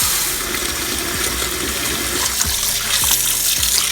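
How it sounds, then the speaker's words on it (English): Warm tap water runs steadily into a bowl holding bagged baby food, a constant close splashing rush that lasts the whole stretch with faint clinks underneath. "Put it in a bowl and run it under warm water."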